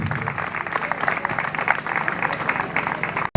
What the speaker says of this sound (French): Applaudissez pour le papa d'Hassan.